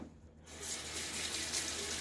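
Water runs from a tap in a steady, close gush as a hand is rinsed at a sink during a wet shave with a Gillette Sheraton razor and Williams mug soap, starting after a brief quiet moment and continuing without talk.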